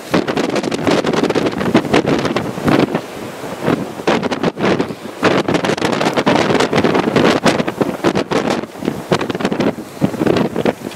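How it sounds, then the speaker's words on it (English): Blizzard wind blowing hard in North Adams, Massachusetts, heavy snowfall, loud gusty roaring buffeting the microphone continuously, near and unbroken with pulsing surges. "Just a wee bit breezy out."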